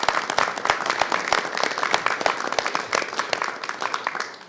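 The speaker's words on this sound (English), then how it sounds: "So we give them a big round of applause." Applause for committee staff in a congressional setting, a lively patter of many hands with crisp individual claps close by, fading slightly at the end.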